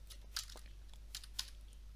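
Faint computer keyboard typing while writing code in a Unity tutorial, a few soft clicks spaced irregularly over a steady low hum.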